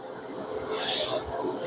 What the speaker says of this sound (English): when you're spraying white primer on white plastic